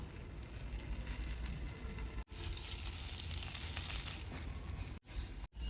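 Small fish cook under a banana leaf over low heat, a soft continuous crackling sizzle that swells for a stretch and then eases, broken by a few abrupt brief cutoffs, with no talking.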